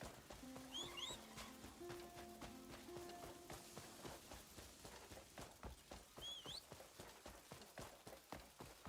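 Rhythmic hoofbeats of a horse trotting after the player in Crimson Desert, fairly close and even, with a few bird chirps and gentle background tones.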